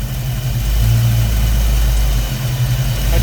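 A 1993 Mustang Cobra 5.0 V8, run for the first time in 26 years, idles loudly and close by with a deep, steady rumble whose pitch wavers slightly as the idle hunts up and down.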